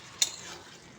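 Ridge gourd pieces are stirred into a spiced curry in a pan, opening with one sharp clink of a spoon against metal followed by a soft sizzle and scrape.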